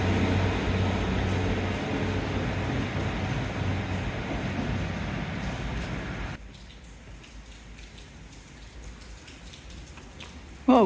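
Steady rain falls at Teignmouth railway station, a dense hiss of drops on surfaces nearby. It grows noticeably quieter partway through, as if from under cover, then ends with a sudden loud thump.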